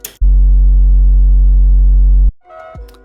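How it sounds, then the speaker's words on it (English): A loud, sustained distorted sub-bass note with a harsh buzzy edge, overloading the master mix, holds steady for about two seconds and then cuts off abruptly, followed by brief quieter sounds. "a sub bass which is distorting the master"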